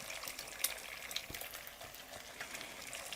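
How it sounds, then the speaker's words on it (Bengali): Two eggs with salt sizzle quietly in a pan over browned chopped onion as they are fried and scrambled into small crumbly pieces, giving a soft, steady hiss with a faint scrape. "এবার ডিমটাকে একদম ঝুরি ঝুরি করে ভেজে নিতে হবে।"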